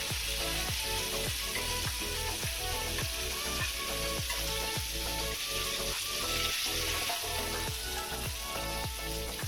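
KFC-style chicken pieces frying in hot oil, a loud, steady, dense sizzle that runs unbroken throughout, with a rhythmic pattern of bubbling bursts and no talking.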